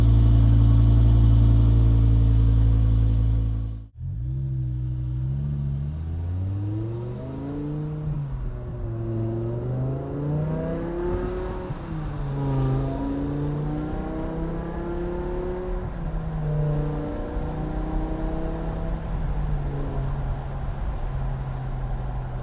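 A BMW M5 with a rebuilt V10 engine revs while driving, starting with a loud roar that cuts off sharply, then climbing and dropping through repeated rising whines. The engine sounds steady and close, with no talk.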